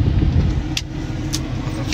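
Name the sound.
pickup truck driving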